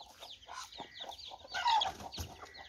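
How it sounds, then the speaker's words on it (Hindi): A black purebred hen clucks close by in a series of short, uneven calls, with a louder burst of clucking partway through and no talking. "ये देखें ना, ये मुर्गी है"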